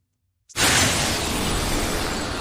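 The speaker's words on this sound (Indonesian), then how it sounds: "helikopter musuh langsung lepasin tembakan laser brutal yang bikin gedung beton hancur kayak kerupuk" In an anime, a sudden loud crash of shattering debris bursts in after a brief silence as a helicopter's laser blast destroys a concrete building, then a sustained roaring, crumbling rumble continues at full intensity.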